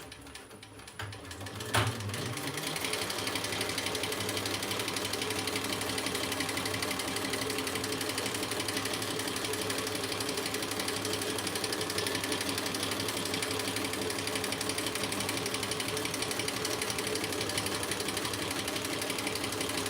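A sewing machine stitching a row on a Mysa crossbody bag: after a brief start, a loud, steady, rapid mechanical whir and needle chatter runs on without a break, close and continuous.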